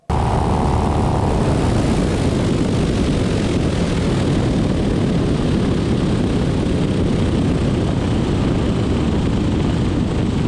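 A propeller airplane, a Legend, drones loudly and continuously while pulsing power on a landing approach to a grass strip; the engine and prop roar stays dense and unbroken throughout.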